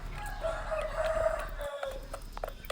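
A farm rooster crows once, a long drawn-out cry that rises and holds in the middle, fairly clear over faint background noise with a few soft clucks near the end.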